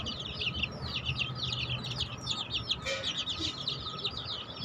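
Chickens cluck and chirp repeatedly in a lively, continuous flock chorus, with a steady low background hum and no talking.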